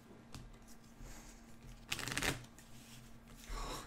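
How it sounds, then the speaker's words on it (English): A deck of cards being shuffled during a board game, heard as quiet close riffling bursts with brief fluttering snaps between softer handling sounds. "Yeah, I'm gonna need a shuffle."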